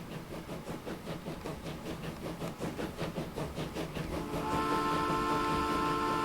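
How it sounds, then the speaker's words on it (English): A steam locomotive from the 1885 era in the Transport Fever game chuffs in a steady rhythm, then lets out a loud, sustained whistle that holds to the end. "listen to that whistle"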